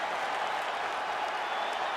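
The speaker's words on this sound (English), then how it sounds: "Stand and cheer, ladies and gentlemen." A loud arena crowd at a UFC fight cheers and applauds steadily after the finish, forming a dense, unbroken roar.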